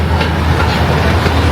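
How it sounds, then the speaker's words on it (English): A loud, steady rumble of a safari park train in Stirling, Scotland rolling past nearby, with a faint rhythmic clatter of wheels over the track. "One of the trains just coming in just now."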